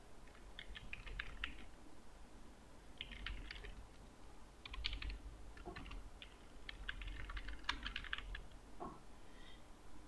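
A computer keyboard clatters in quick, faint bursts of key taps with brief gaps between them as an email address and password are entered, with no voices.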